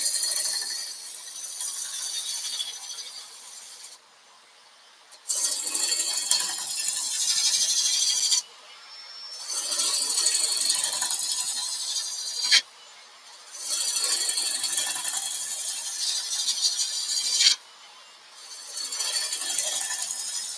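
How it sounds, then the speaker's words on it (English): Draw knife or roughing gouge shaving along a piece of wood in four long, steady rasping strokes, close by, each separated by a brief pause. "I'm just pulling the draw knife along, the roughing gouge along it"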